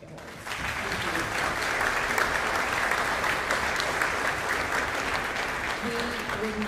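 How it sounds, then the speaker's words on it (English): An audience at a spring youth concert claps for sponsors, broad sustained applause starting after a brief pause and continuing steadily and fairly loud throughout, with no distinct voices. "please give a round of applause for our sponsors, patrons, and season ticket holders"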